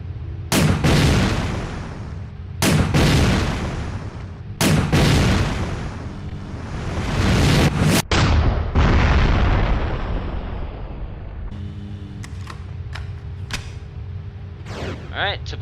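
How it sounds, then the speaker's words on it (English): Grenade launcher rounds exploding in Resident Evil: Dead Aim, four heavy booming blasts in turn, each with a long rumbling tail, followed by lighter clicks and small pops near the end. "Alright, let's test the grenade launcher out."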